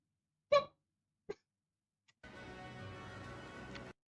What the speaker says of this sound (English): So, Pombon's cry is literally just...